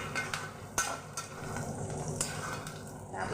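Onions sizzle as they fry in a pan, with garlic going in next, for a home-cooked chicken dish; a steady, close hiss runs throughout, broken by sharp scrapes and clicks of stirring.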